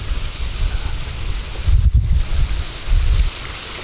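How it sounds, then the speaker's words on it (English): Wind gusts buffet the microphone on a fell summit in a sheltered spot, a loud low rumbling roar that swells and eases in irregular surges. "as you can probably tell, the wind has dropped dramatically just behind this little lump here"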